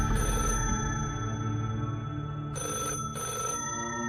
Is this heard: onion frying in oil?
no